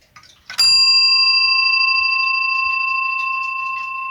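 A French grandfather clock's bell, struck once after soft handling noises, rings out with a clear pure tone that sustains and slowly fades over several seconds.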